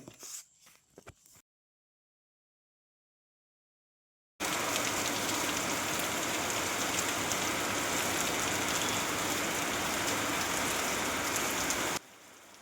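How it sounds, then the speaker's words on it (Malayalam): Heavy southwest monsoon rain pours steadily in Kerala, a dense roaring patter of drops on surfaces that starts abruptly after a silent gap and runs loud and unbroken for several seconds before cutting off. "ഇന്നും ഇടവിട്ട് ശക്തിയോടെ മഴ പെയ്യുന്നുണ്ട്"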